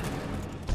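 Gunfire in Dead Space 2, a dense, booming burst of rapid shots filling a short moment, loud and close with a heavier thump at the end.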